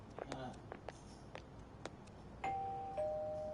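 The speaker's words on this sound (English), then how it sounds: "You ring the bell." A two-tone doorbell chimes at Madarame's house in the Persona 5 Royal video game, ringing clearly after a few soft footsteps and faint game sounds.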